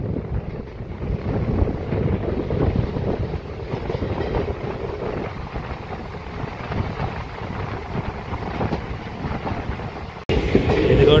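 A DEMU local train runs along double-line track, with a steady rumbling clatter and wind buffeting heard from on board. The noise holds for several seconds, then breaks sharply near the end.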